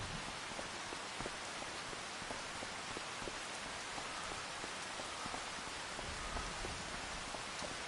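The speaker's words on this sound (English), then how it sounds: "we didn't beat the sun, and we're getting beaten by the rain." Steady rain falls in the PS5 video game Kinlaig, a dense, even patter of drops on surfaces that holds constant throughout with no voices.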